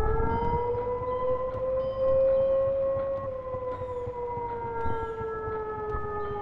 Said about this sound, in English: Why the air raid sirens?